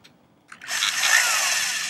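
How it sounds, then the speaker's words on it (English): A power drill bores into a concrete block wall for Tapcon screws, starting after a few brief clicks and then running as one loud, steady, high-pitched whine close by. "Drilling here for TAPCON."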